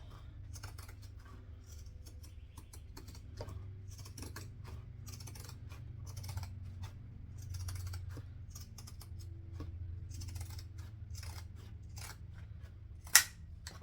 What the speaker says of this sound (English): I want to get my zigzag scissors off my cart. And we're just going to trim back all of the seam allowance.